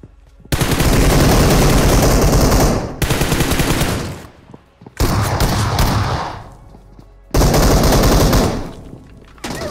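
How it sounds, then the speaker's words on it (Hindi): Loud, close bursts of rapid automatic gunfire in a battle royale shooter match, three long sustained volleys separated by brief pauses, with a fourth starting near the end. "बाहर से भी कोई फायरिंग दे रहा था"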